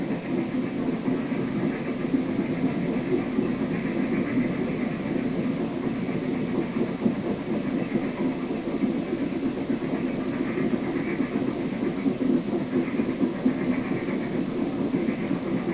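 A steady, continuous rumble of a Maine Central train engine running at a constant pace, broad and unchanging throughout, with no voices.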